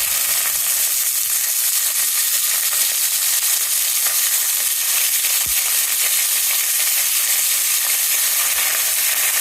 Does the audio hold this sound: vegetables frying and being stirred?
yes